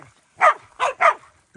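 Hunting dogs barking during a pig hunt in central New South Wales, four sharp close barks in quick succession with short gaps between them.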